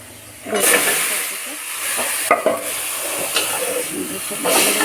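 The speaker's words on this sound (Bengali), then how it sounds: "এখন আমি সবজিটাকে কষিয়ে তারপর আমি ঝোল দেবো।" Vegetables and spices for a rohu fish curry sauté in a hot pan, a steady loud hissing sizzle throughout with occasional stirring clatter, close up and without talking.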